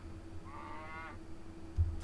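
A single drawn-out cow moo from a farm board game, mid-loud and clear over a low steady hum, lasting about a second before fading.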